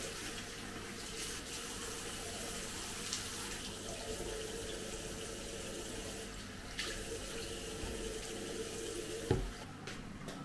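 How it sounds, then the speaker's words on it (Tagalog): A tap runs steadily into a sink while it is being cleaned, a continuous close, moderate rush of water with a small splash near the end and no talking. "Nililinis ko na yung lababo para malinis siya."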